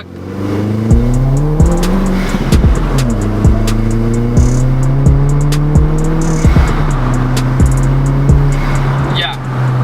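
A Volkswagen Golf GTI 20th Anniversary Edition with a small turbo engine accelerates hard in a tunnel area, its loud, close engine note climbing and dropping through several quick gear shifts, with voices talking over it.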